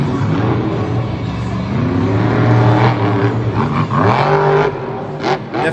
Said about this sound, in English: Definitely a very loud truck in the independent shows as well.